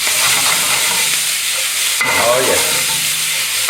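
Pork and vegetables stir-fry with gochujang and sea salt in a pan, with steady close sizzling and frying hiss throughout and a sharper burst of sizzle and stirring partway, with a brief spoken remark.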